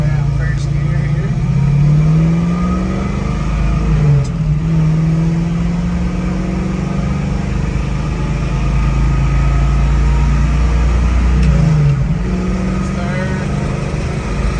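A 1968 Shelby GT500KR with a 4-speed manual pulls away hard in first gear, its loud close engine droning and rising in pitch, with brief dips where the revs shift, continuous throughout.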